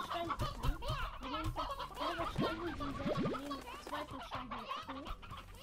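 Chickens in the video game Slime Rancher cluck continuously in a busy, overlapping chorus of short, close clucks and squawks.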